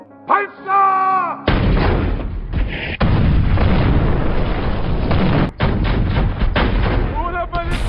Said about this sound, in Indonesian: Meriam-meriam siap diluncurkan.